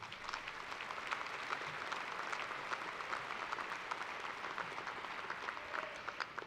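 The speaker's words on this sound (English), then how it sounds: "Please join me once again in applause to acknowledge the scholastic achievement of" An audience at the University of Toledo's fall 2024 morning commencement applauds the graduating students, with a steady wash of clapping that holds evenly throughout, somewhat distant.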